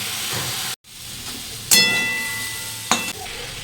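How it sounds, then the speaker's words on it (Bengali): Cauliflower and potato pieces fry in a pan, sizzling steadily close up with two sharper bursts of hissing as they are stirred or tossed; no voices. "এখন ফুলকপি আলু ভালো কিছু ভেজে নেবো"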